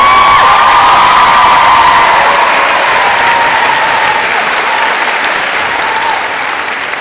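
Students applauding their teachers at a finalists' concert and prize giving, a loud, sustained wash of applause from a large crowd with some cheering mixed in, holding steady before easing slightly toward the end.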